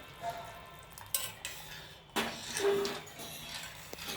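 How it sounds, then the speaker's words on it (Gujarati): A spoon stirs cracked-wheat lapsi inside a steel pressure cooker, with scattered metallic scrapes and clinks, a couple of sharper knocks, and quiet pauses between strokes. No one speaks. "આ રીતનું હલાવવાનું"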